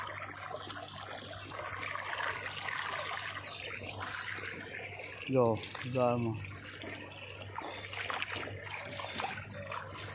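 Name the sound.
irrigation water flowing from a borewell into a sorghum field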